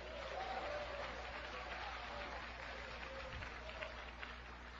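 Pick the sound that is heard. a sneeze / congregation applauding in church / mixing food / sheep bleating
congregation applauding in church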